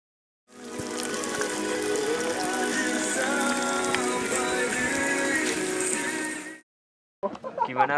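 Rain falls on the Suwanting trail up Mount Merbabu as a dense, even hiss of drops that starts abruptly and cuts off after about six seconds, followed by a brief bit of noise.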